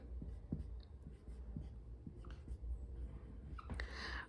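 Hand writing during a math lesson on profit and loss, heard as soft, scratchy strokes and taps in irregular bursts over a steady low room hum, with no speech.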